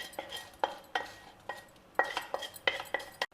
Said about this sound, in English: Give it all a good mix and allow it to come to a boil.